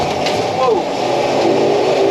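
The engine of a 1968 Ford Bronco half cab revs close by in a short loud burst, with a voice talking over it.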